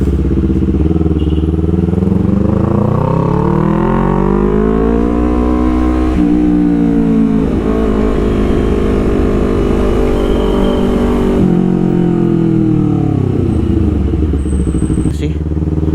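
A Honda CBR250RR motorcycle being ridden, its engine droning loud and close with rising and falling revs through gear changes, a steady high-pitched whine throughout while someone talks briefly.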